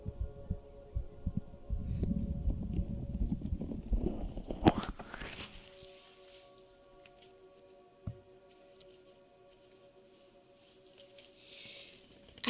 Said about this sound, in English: I really like listening to heartbeats.